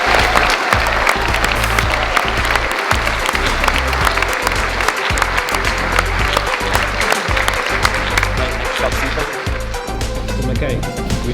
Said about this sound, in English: Round of applause for the first row.